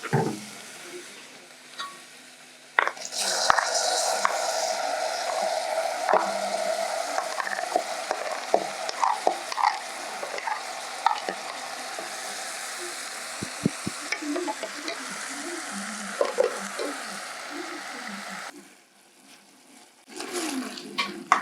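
Tomatoes sizzle steadily in a hot pan for a liver stew, with frequent scraping and clinking stirs from a utensil close up; the frying hiss dips near the end before resuming.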